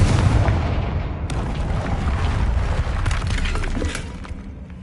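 A loud, sustained blast from the Confringo spell in Hogwarts Legacy, with a booming, crackling explosion that fills the scene and slowly tails off near the end, with no talking over it.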